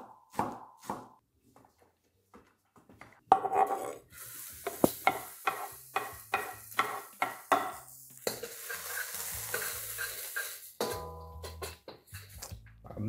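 Shallots and crab fat sautéing in a pan for a noodle sauce, with a quick series of stirring scrapes and clatters over a soft sizzle, close and moderately loud, with some quieter bumps before the stirring picks up.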